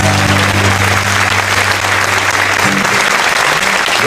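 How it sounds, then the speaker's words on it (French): Loud, steady audience applause fills the room without a break, a dense wash of clapping hands at a comedy show with a low hum beneath it. "Allez, vous pouvez d'ores et déjà vous applaudir bien fort."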